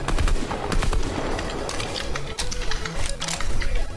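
Rapid, loud bursts of automatic gunfire fill the clip in Fortnite, a dense stream of overlapping shots with brief pauses and no speech.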